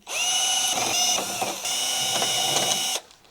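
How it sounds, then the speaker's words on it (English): An electric screwdriver whirs while unscrewing the two screws from the legs of a Hisense 55H8F television lying face down on a workbench, a close, continuous motor whine with brief dips in pitch. "I'll start by removing the legs. We have 2 screws on the bottom."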